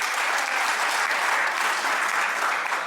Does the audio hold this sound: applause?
yes